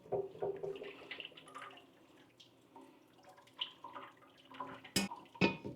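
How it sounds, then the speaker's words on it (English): Liquid from cooking pulled pork and Italian sausage being drained from a pot, a faint splashing trickle and dripping with a couple of sharp clanks near the end, no speech. "See all the liquid in there? I wanna get some of that out. So we're gonna drain this."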